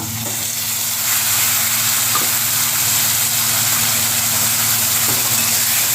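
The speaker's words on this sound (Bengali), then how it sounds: "আদা লঙ্কা পেঁয়াজ রসুন বাটা দিয়ে আমি ভালো করে কষিয়ে নেব" A paste of ginger, chili, onion and garlic fries in a pan, giving a loud, steady sizzle and hiss with occasional stirring scrapes, close up and with no talk.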